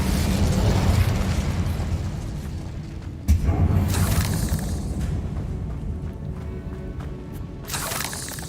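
An Incendio fire spell cast in Hogwarts Legacy, a dense roaring rush of flame with a sudden sharp burst partway through, then rolling crackle and a fresh flare of noise at the close.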